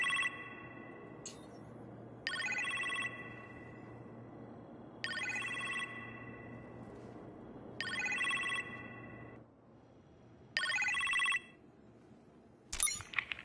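A telephone rings in a kitchen in the Iron Man VR video game, five evenly spaced bursts of electronic trilling, each about a second long with pauses between, ending with a short clatter.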